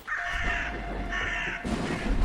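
Crows caw outside a house on a doorbell camera, two long harsh calls in a row over steady background noise, fairly loud and with no speech.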